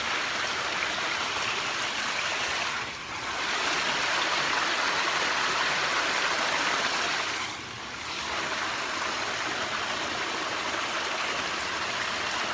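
A waterfall pours with a loud, dense, steady hiss and roar close by, briefly dipping twice as if the listening position shifts, otherwise constant throughout.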